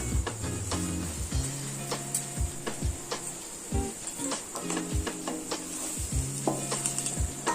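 Sweet potato pieces frying in a pan, a soft continuous sizzle under repeated close scraping and tapping of a utensil against the pan at an uneven rhythm, with no voices.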